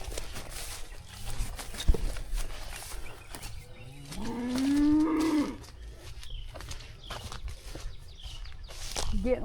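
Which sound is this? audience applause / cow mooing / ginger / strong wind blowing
cow mooing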